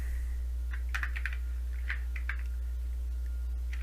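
Rust code typed on a computer keyboard: irregular bursts of light key clicks, close and clear over a steady low electrical hum.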